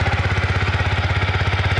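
A Yamaha YZF-R125 motorcycle, a 125cc bike with a variable valve system, idles close by with a steady, loud, rapid low-pitched thrumming pulse.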